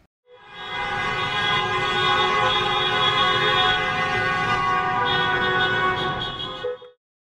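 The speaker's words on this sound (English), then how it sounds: "Please honk for our valedictorian and salutatorian." Car horns honk together in a sustained, loud chorus for graduating students in a parked-car graduation ceremony, overlapping into one steady blare for several seconds before cutting off.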